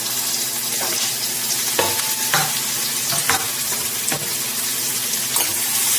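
Onion, garlic and bedki chilies fry in a pan for dal tadka, making a loud, steady sizzle with occasional stirring clicks and scrapes. Nobody speaks.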